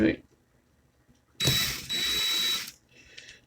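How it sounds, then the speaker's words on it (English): A power drill whirs in two short bursts close by, with a pause between them and a brief mechanical rattle afterward. "Get my drill in reverse."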